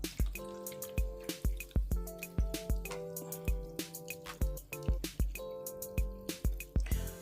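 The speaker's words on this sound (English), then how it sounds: "we add in our Mountain Dew" Mountain Dew soda pours onto apple dumplings in a baking dish, heard up close as a quick, irregular series of plopping, dripping splashes with fizzy crackle between them.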